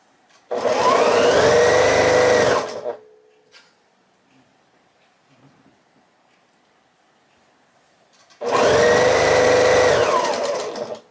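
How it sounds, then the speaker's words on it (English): A sewing machine stitches quilt pieces in two loud, steady whirring bursts of about two and a half seconds each, separated by a long near-silent pause. "let's get some more of these sewn"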